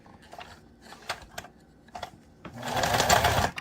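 Sewing machine stitching forward, operated by a first-time user, with a few short clicks and taps, then a loud, steady mechanical whir of stitching in the last second.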